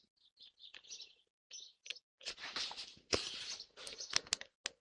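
Birds chirp and tweet outside an open window, sounding close and fairly clear, in short repeated bursts that grow busier and denser.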